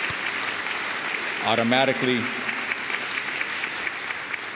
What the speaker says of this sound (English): Again, tremendous applause for all of them